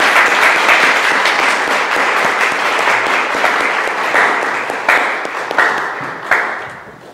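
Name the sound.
applause welcoming a church visitor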